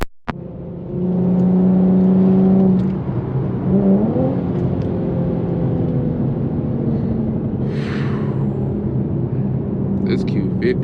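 An Infiniti Q50S pulls hard under acceleration, its engine note climbing in a loud, steady drone for a few seconds, then easing into a continuous rumble of road and engine noise heard from inside the car in traffic.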